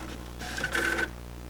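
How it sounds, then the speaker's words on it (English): A printer in the video game Televoid rapidly spits out letters, a brief burst of fast mechanical whirring and chattering lasting under a second over a steady low hum. "the printer is rapidly spitting out letters"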